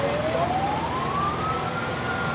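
A fire truck siren wails with a slow rising tone, heard through dense, loud background roar at a house fire in Layac, Dinalupihan, Bataan.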